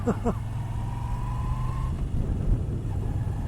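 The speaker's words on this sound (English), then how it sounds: "I like the way this engine sounds" A 2020 Moto Guzzi V9 Bobber Sport V-twin engine idles with a steady low rumble, joined briefly by a faint whine and a short vocal sound near the start.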